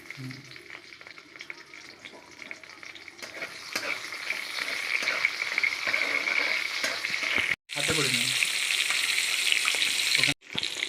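Bay leaves, whole cumin and slit green chilli fry in hot oil for a vegetarian khichuri, a bright continuous sizzle with stirring clatter throughout, broken by two brief cuts to silence.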